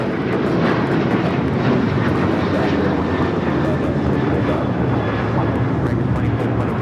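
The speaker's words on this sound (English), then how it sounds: "This is American Airlines 2708 taking off to Pittsburgh on the 737-800." An American Airlines Boeing 737-800 thunders down the runway on takeoff at Los Angeles airport, a loud, steady, unbroken jet roar with no voices over it.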